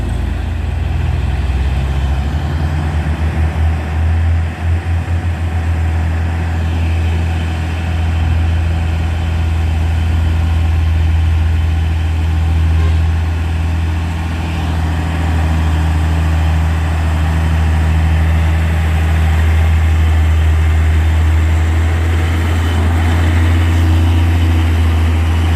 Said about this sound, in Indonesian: Tronton ya, Hino Tronton.